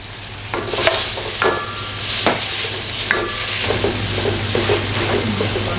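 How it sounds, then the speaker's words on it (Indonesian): Garlic sautéing in a little oil in a pan over medium heat, a soft steady sizzle under repeated scraping stir strokes, close and moderately loud, with no talking. "Sekarang langsung kita masukin bawang putihnya."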